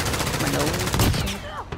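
Rapid, dense automatic gunfire in a shooter video game, loud and continuous with sharp repeated cracks, ending in a couple of louder final shots.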